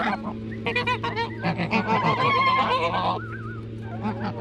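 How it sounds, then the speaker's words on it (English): Geese honk repeatedly in a loud, overlapping chorus close by, with a steady low hum underneath. "We're gonna try and coax the geese over here."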